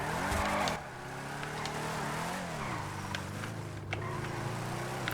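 Declasse Drift Tampa in a video game doing a burnout: a short burst of tire squeal and engine rev, then a sustained revving engine whose pitch rises and falls with screeching tires.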